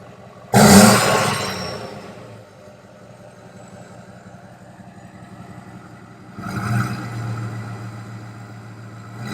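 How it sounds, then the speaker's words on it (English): Older truck with a new aftermarket exhaust, two revs about six seconds apart: a sharp loud burst that fades into a low idle rumble, then a softer second rise. "He's loving his new exhaust as well."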